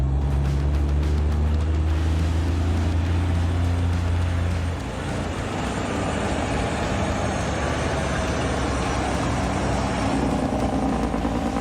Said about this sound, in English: The massive logging trucks roar to life, their wheels gripping the rough dirt roads.